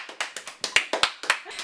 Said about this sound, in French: on peut applaudir Charlène, applaudissez.